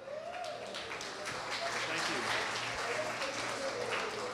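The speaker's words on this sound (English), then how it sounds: "So Glen Gilmore, please give him a round of applause." An audience at a social media week keynote in Miami applauds the incoming speaker, a steady wash of many hands clapping that swells slightly midway, fairly distant and sustained, with a voice faintly present.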